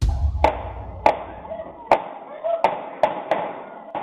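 Sharp gunshots crack out one after another in a residential area, about seven irregular bangs over a few seconds, each with a short echoing tail.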